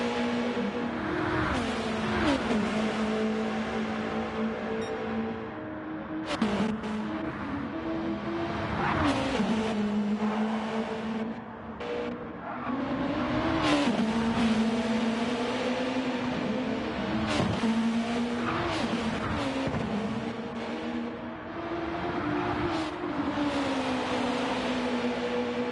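GT1 race cars from a racing video game circle the Nordschleife, their engines roaring loudly and continuously as the pitch rises and falls through gear changes, with repeated upshifts and some lifts off the throttle.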